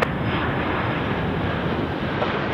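A jet airliner rolls for takeoff at Chicago O'Hare International Airport, its engines a loud, unbroken broadband roar that holds steady throughout without any talk.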